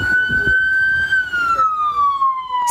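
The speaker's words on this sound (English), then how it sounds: "Dialing the numbers, hearing the siren," A loud, steady siren wail slowly falls in pitch, with low rumbling and brief voice-like sounds beneath it.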